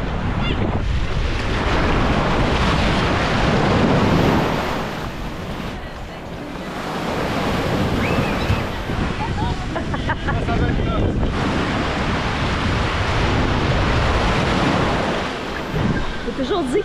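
Loud surf crashing and rolling at a beach in Cancun, Mexico, mixed with heavy wind buffeting the microphone, the roar swelling and easing as waves break close by.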